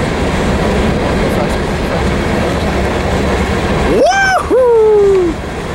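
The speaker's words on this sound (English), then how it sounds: "There goes that UP empty coal train out the pass" An empty Union Pacific coal train rumbles steadily through Cajon Pass, a continuous low roar of wheels and cars, with a loud two-tone horn blast near the end.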